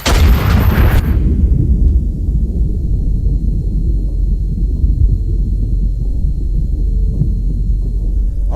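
A battleship turret on a 1000-ton walking battleship in the Iron Nest video game fires a star shell: one loud, close blast lasting about a second, followed by a long, heavy rolling rumble that stays steady to the end.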